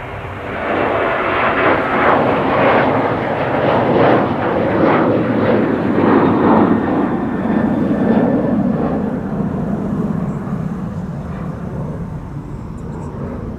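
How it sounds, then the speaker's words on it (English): A Transavia airliner takes off from Amsterdam Schiphol, its jet engines a loud, sustained broadband roar that holds steady for most of the stretch and then slowly eases as it climbs away. "a Transavia departure over here"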